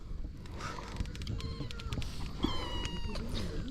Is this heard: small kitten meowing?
yes